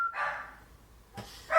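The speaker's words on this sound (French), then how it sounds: "le chien qui jappe" A pet dog barks indoors, close and loud: two sharp barks at the start and end with a short yip between, separated by quiet.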